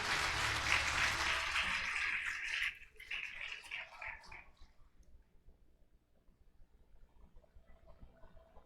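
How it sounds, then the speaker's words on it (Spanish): A church congregation breaks into applause for a sermon reading, dense clapping for a few seconds that drops off abruptly and leaves a faint, low room murmur. "denle ese aplauso a la palabra del Señor"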